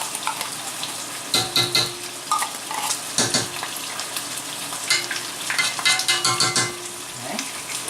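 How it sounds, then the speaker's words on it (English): Marinara sauce with tomato paste and sugar stirred in a pan, a spoon scraping and knocking in uneven bursts over a steady low simmering hiss, close and moderately loud with no talk. "Stir this very well."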